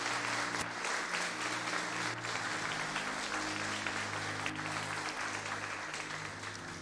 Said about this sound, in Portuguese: Então aplauda ao Senhor e glorifique o seu nome por isso.